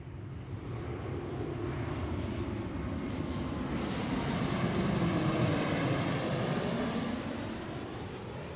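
A Horizon airliner lands on runway 34 left at Seattle airport. Its steady engine roar swells to a peak and then eases off, heard at some distance with no talking.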